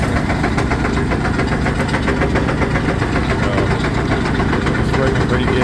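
Jaw crusher at a gold ore mill crushing rocks: a loud, dense, continuous mechanical rumble and clatter with rapid knocking pulses, close and unbroken.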